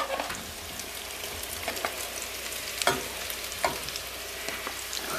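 Sausages frying in a pan at an off-grid cabin in Alaska, a steady bright sizzle with scattered scraping and clinking as they are stirred, close and alone.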